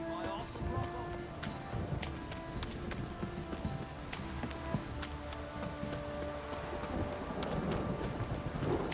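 Steady rain falls in the video game The Witcher 3: Wild Hunt, a continuous dense patter with occasional sharper taps and low rumbles beneath it, heard alongside a horse's hooves and game ambience.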